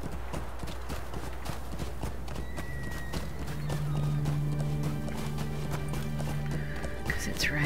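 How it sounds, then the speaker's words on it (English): Horse hooves clip-clop at a steady walking pace in the Lord of the Rings Online game, with a few faint tonal game sounds and a brief whinny-like note over the rhythmic footfalls. "I'm just going to let the horse take me back from the town"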